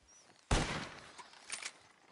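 A single sharp gunshot cracks out after a quiet moment, followed by a decaying echo and a few fainter knocks, heard outdoors at moderate distance without speech.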